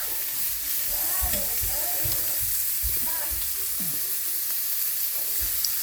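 A steak sizzles loudly and steadily in a hot pan just after being flipped, a dense close hiss with a few soft scraping touches underneath.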